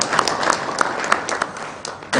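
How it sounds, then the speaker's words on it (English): Audience applause at a cyber security conference session, a steady wash of clapping with a few sharper individual claps standing out, fairly close and lasting the whole stretch, swelling briefly at the end. "Yes, we can clap properly."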